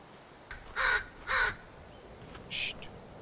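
Crow-like caws from birds in The Forest survival game, three loud harsh calls spaced roughly half a second to a second apart, clear and alone over quiet ambient background.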